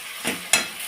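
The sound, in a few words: spice paste being stir-fried for rohu fish curry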